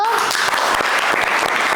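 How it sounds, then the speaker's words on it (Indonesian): Applause from a classroom audience for a presenting student group, a brief, fairly loud patter of many hands with a voice speaking over it. "Tepuk tangan untuk kelompok 1."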